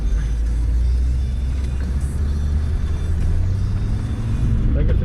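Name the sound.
Land Rover Discovery 2 TD5 engine driving off-road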